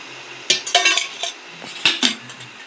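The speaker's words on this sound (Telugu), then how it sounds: "మళ్ళీ ఒకసారి కలుపుకుందాం" A spoon clinks and scrapes against a bowl while wheat flour dough for veg bread is mixed with oil, a handful of sharp, close knocks in irregular bursts with no talking.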